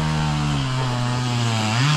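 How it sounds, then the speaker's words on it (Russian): A chainsaw cuts through logs outdoors beside a loaded trailer, its engine droning loud and steady at close range with the pitch dipping and rising under load, and no talk over it. "Ну, папа уже пилит."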